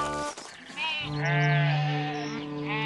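Herd of goats bleating: several loud, wavering bleats overlap one another up close, with a short dip into quiet between calls and no speech.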